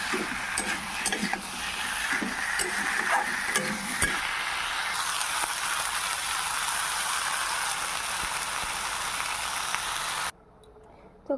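Spice paste sizzles in a pan as tomatoes and potatoes go in, with scraping and stirring over a steady hiss that drops away abruptly near the end. A voice talks over it.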